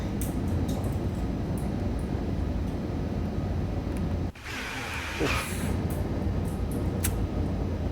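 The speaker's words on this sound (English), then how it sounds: "Love this train, and it's nice to have it like on a good stretch of like 200 kilometers an hour" DB BR 101 locomotive hauling a passenger train at high speed, around 200 km/h, on the Kassel to Fulda line in Train Sim World 3: a steady, loud rushing rumble of wheels and wind, with a brief dip and a hiss midway.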